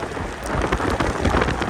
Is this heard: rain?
yes